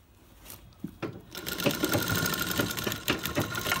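A sewing machine stitches a pad into a blouse: after a few quiet handling sounds, the motor starts and runs in a steady, close, rapid rattling whir to the end.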